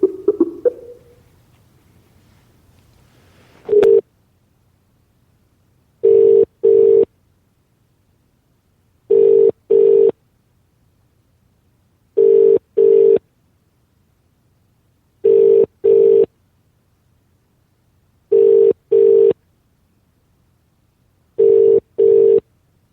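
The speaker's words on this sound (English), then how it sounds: "that one definitely rang there, didn't it?" Ringback tone on an outgoing mobile call, a clean paired double-ring repeating at steady intervals about seven times, loud and alone after a brief burst of noise at the start.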